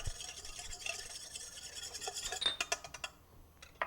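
Whisk scraping briskly against a bowl while blending vinegar into a BLT bruschetta dressing, a quiet rapid rasping that gives way to a few separate clinks and taps.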